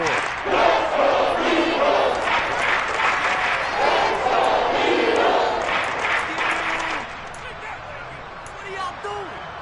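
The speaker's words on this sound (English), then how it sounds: "The crowd getting into it as we come up on a big 3rd down." A football stadium crowd roars and cheers at a big third down, a dense sustained wall of noise that eases off near the end, with a commentator talking over it.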